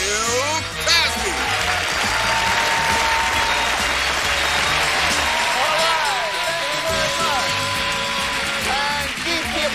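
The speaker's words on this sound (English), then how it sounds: "keep the applause going for Renfield, please, ladies and gentlemen" A studio audience at a television game show applauds loudly and continuously, with dense clapping and some cheering. A rhythmic music bed runs underneath.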